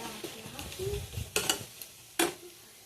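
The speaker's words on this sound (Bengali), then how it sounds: "দেখুন, আমার বেরেস্তা কিন্তু কমপ্লিট হয়ে গেছে ভাজা।" Sliced onions frying into crisp beresta in a pan for a Bengali egg paturi, with a spatula stirring and scraping through the oil and two sharp metallic clinks against the pan, close and moderately quiet.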